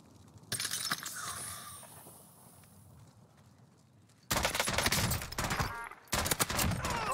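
Full-auto bursts from a Tec-9 SMG in Warzone, heard as a quieter early stretch of shots followed by two loud, dense volleys of rapid gunfire close up.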